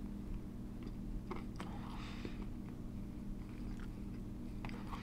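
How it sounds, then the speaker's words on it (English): Someone bites into a Wendy's Pretzel Baconator burger with crunchy bacon, giving a few close, soft crunches followed by quiet chewing over a steady background hum, with no talk. "I'm gonna go ahead and see if I can bite from a good part here."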